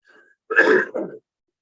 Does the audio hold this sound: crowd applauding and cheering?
no